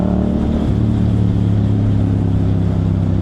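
Motorcycle with a CP2 parallel-twin engine: a loud, close, steady throbbing exhaust drone with a deep rumble, holding a constant note throughout the few seconds without a voice over it.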